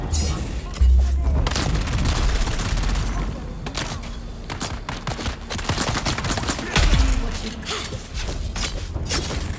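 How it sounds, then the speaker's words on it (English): In the video game Dune Awakening, a grenade explodes amid dense rapid gunfire, with heavy booms near the start and again later, and shots crackling continuously and loudly throughout. "Grenade out!"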